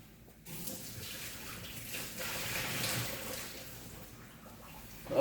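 Water pours out steadily while cooking green plantains, a continuous splashing rush into a sink that swells slightly before a sharper clatter at the end.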